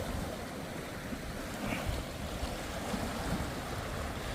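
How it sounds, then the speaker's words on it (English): Waves wash onto Shar Sands beach on the Northumberland coast, a steady, broad roar of surf with slight swells and no voices. "this beach is called Shar Sands in Northumberland"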